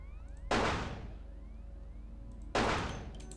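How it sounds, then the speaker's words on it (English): Two loud, sharp gunshots ring out in the vampire video game Vampire: The Masquerade Bloodlines, about two seconds apart, each followed by a decaying echo over a low, steady game ambience. "No one's running to these fucking gunshots."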